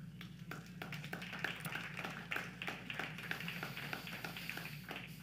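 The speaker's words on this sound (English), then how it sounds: "I join you in that applause" A church congregation applauds during a weekend service, a steady soft patter of many hands clapping at a distance, fairly quiet throughout.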